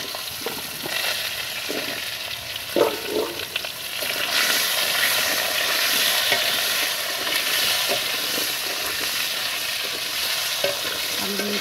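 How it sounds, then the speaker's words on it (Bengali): Potatoes fry in oil with cumin in a pan, a constant sizzling hiss with scattered scraping and clinks of stirring early on, before the frying settles into a louder, steady crackle. "আলুগুলো একটু ভাজা ভাজা করে নেবো"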